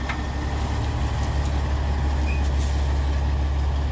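A big truck pulling a trailer maneuvers into a tight driveway at an old mill, its heavy diesel engine rumbling loud and steady nearby throughout.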